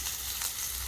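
Cumin seeds and green chili tempering in hot refined oil, a soft continuous sizzle with a small crackling pop near the end, close and steady, no talking.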